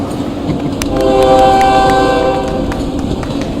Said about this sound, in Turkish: tren gidiyor lan